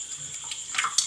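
Water being poured while a fish is cut, a light splashing trickle with small clicks and drips, fairly close and quiet, growing slightly busier toward the end.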